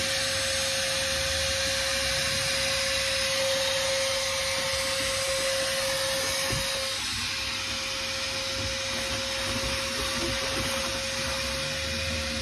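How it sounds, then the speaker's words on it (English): Vacuum cleaner hoovering the interior of a boat under refit, a steady loud drone with a high whine, running continuously, changing pitch briefly partway through. "We just got to hoover this and Charlie's got to wipe it."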